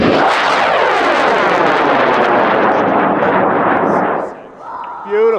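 A tall high-power model rocket on an M2500 motor launches with a huge, sustained roaring blast lasting about four seconds, then fading sharply as it climbs away, followed by a voice at the end.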